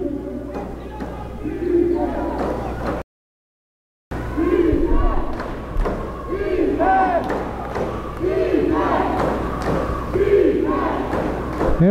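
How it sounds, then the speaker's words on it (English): A crowd at a Florida Basketball Association game, Palm Beach Knights at Florida Flight, cheers and shouts steadily throughout. There is a brief dropout near the start, and scattered voices and whistles ride over the roar. "we got some crowd activity going"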